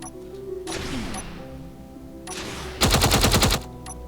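Ship cannons fire in the game Space Engineers, a sustained burst of rapid gunfire followed by a louder, sharper rattling volley of quick, evenly spaced shots.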